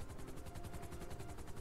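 Helicopter from Grand Theft Auto, flying on a cargo drop run, gives a steady loud rotor chop with a dense low rumble throughout, with no voices.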